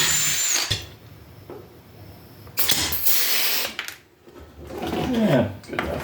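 A power tool whirs in short bursts while pop rivets are set along the seams of a metal battery tray for a DIY 48V 2000W electric scooter build, with loud bursts separated by quieter pauses and clanking handling noise.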